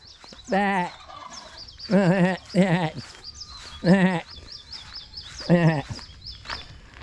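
Goats bleat on a coconut farm in the Philippines: about five loud, wavering calls come in separate bursts with short pauses between them.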